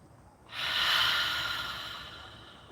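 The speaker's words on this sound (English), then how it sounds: "Big breath" A person draws one big, audible breath through the nose, a close airy rush that starts abruptly and slowly fades over about two seconds in a quiet indoor room.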